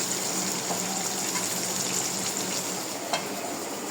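Chopped tomatoes frying in a pan of oil for a taro root and meat curry, a soft continuous sizzle with faint crackles and one brief sharper pop near the end.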